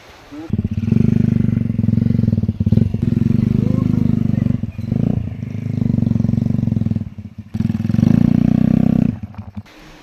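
A motorcycle, its sprocket recently damaged, rides across beach sand, its engine droning loud and steady close by, easing briefly around the midpoint and again before the end, with faint clatter mixed in.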